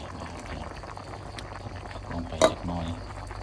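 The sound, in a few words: soup boiling in a pot at a fishing campsite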